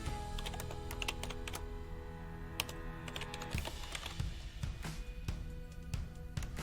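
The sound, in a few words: typing on a computer keyboard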